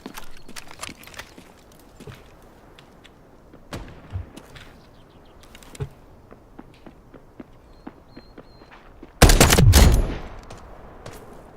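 Gunfire in the shooter game Delta Force: scattered distant shots and footsteps, then one loud close burst of automatic fire lasting about a second before things fall quiet again.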